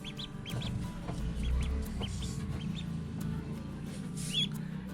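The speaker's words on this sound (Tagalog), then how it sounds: "Ito po ay ang ating mga bagong papisang itik." Newly hatched ducklings at a rural farm peep in short, high, repeated chirps over a low rumbling background, close by and fairly clear, with no talking.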